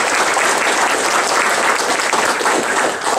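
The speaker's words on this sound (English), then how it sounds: "let's give her a round of applause" Loud, sustained applause from an audience at a brunch event, steady clapping filling the whole stretch and tapering slightly at the end.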